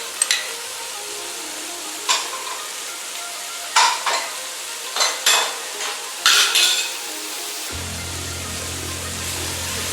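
Green chilies tossed into onions frying in a pan for a karela piyaz salan, giving a steady close sizzle broken by several sharp scrapes and clatters of a spoon against the pan, with a low hum entering near the end.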